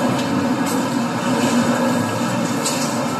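A train rumbles past on a nearby railway track, a steady broadband roar with metallic rattling that holds at moderate loudness for the whole stretch, with no speech.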